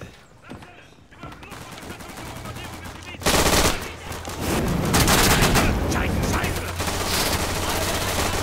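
Automatic gunfire in a World War II shooter game, Day of Infamy, rattles in bursts, starting sparse and faint and then swelling into dense, loud sustained firing, with some speech in the mix.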